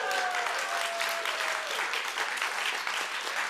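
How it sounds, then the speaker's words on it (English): Members of a church congregation applaud a fundraiser auction result, a steady dense clapping that stays even and continuous from start to finish. "be ready for applause"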